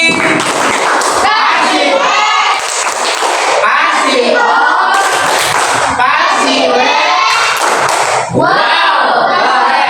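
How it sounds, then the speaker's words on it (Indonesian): Applause from a classroom audience at a school presentation, a crowd clapping and cheering loudly and steadily throughout, with children's voices shouting and a voice talking over the noise. "Kasih tepuk tangan lagi."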